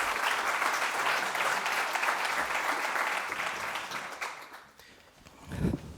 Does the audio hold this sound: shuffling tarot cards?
no